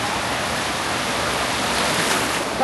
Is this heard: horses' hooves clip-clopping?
no